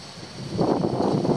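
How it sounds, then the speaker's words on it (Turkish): Cold wind blows outdoors near a tent, gusting into a brief rushing buffet against the microphone that swells halfway through, with no voices. "Doğudan böyle soğuk, sanki kar rüzgarları gibi rüzgar esmeye başladı."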